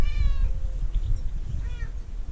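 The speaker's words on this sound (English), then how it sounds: "Gata, gato, ¿dónde has estado?" A cat meows twice, a drawn-out call followed by a shorter one, over a low rumbling background hum.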